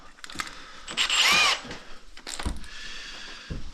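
A power drill bores a pilot hole for a Samsung single-zone 24k BTU mini-split heat pump installation, with a loud high-pitched whining burst in the middle and shorter drilling bursts after it. Faint voices murmur nearby.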